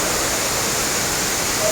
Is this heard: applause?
no